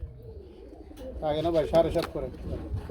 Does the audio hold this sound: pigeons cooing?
yes